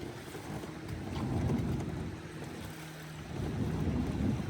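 A boat motor on a mountain river drones in a low steady hum, mixed with rushing water and wind buffeting the microphone, swelling louder toward the end.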